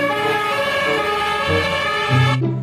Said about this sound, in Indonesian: ternyata ada mobil pemadam kebakaran